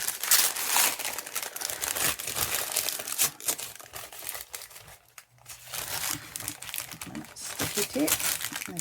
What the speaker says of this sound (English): Sticky tape. There we go. No, more sticky tape.